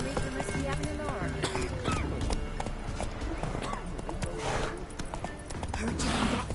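Horse hooves trot in The Witcher video game in a steady clip-clop rhythm, with occasional whinnies and ambient game sounds under spoken dialogue.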